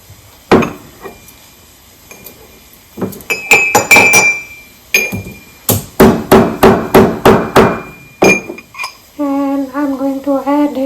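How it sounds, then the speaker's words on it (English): Cardamom pods being crushed for chai tea: a series of sharp, hard knocks, first scattered, then in a quick rhythmic run of pounding, followed by a short voiced sound at the end. "So I am going to crush a cardamom"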